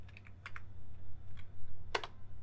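Keys on a computer keyboard are tapped in a few short bursts while a file is edited in the nano text editor on Linux, quiet and close, ending with a sharper keystroke.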